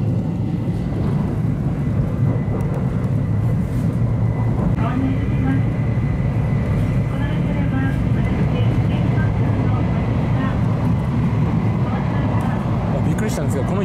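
Inside a Shinkansen 700 series Hikari train running at speed through Shin-Shimonoseki, a loud, steady rumble and roar fill the car throughout, with someone speaking over the noise.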